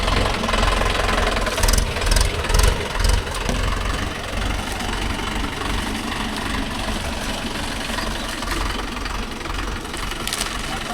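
Mahindra Yuvo Tech Plus 585 4WD tractor idling nearby, a loud, steady diesel knock and rumble with a few brief rattling bursts early on, then a constant chugging throughout.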